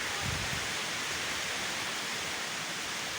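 Heavy rain with strong wind during a storm in the village of Cijarenga: a dense, steady roaring hiss of downpour, loud and unbroken throughout, with gusty low rumbling underneath.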